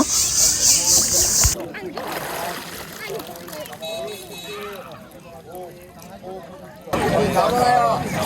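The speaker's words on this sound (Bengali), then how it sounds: "এখন আমি ডুব দিচ্ছি" Water splashing as someone dips into a pond to bathe during a ritual bath, with bursts of splashing and churning at the start and end and several voices talking nearby in between.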